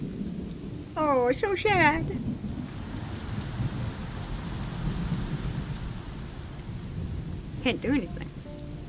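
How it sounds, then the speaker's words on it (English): Steady heavy rain with a low thunder rumble fills a stormy scene in the video game Road 96, continuous and moderately loud, while short spoken lines break in near the start and the end. "Look at the dramatic rain."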